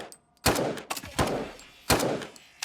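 Gunfire in the RoboCop: Rogue City video game: several loud, sharp shots in close succession, each a sudden broadband crack with a short decaying tail, spaced irregularly across a few seconds.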